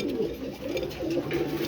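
A pair of pigeons coos softly and steadily at a bird market, low throaty murmurs continuing throughout over a dull background hum.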